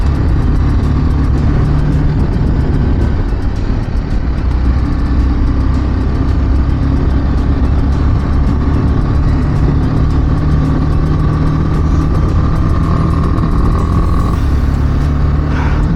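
A BMW G310GS motorcycle rides along a road in Ladakh, its engine droning steadily and loudly with constant wind rush throughout, no pauses or talk.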